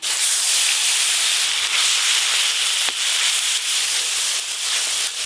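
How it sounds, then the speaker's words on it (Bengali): Onion, ginger and garlic paste hits hot oil tinted with turmeric, giving a loud, steady high hiss and sizzle with a few brief crackles and no voices. "এবার পেঁয়াজ, আদা, রসুন একসঙ্গে বাটা আছে দিয়ে দেব।"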